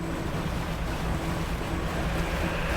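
Fishing boat in the DREDGE video game cruising across open ocean, a steady broadband rush of water and wind with a low engine hum underneath, continuous and even throughout, no voices.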